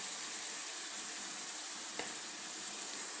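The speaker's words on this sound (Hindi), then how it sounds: "चम्मच चला दिया है मैंने।" Tomatoes, masala and chicken fry in a pan as a spoon stirs through them, giving a faint, steady sizzle with one small scrape and no talk.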